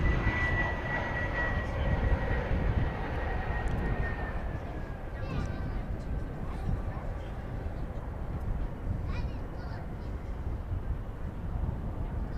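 A CRJ-701 regional jet passes at an airport, a steady rumbling engine roar with a high whine that slowly falls in pitch as it moves off, heard at moderate distance.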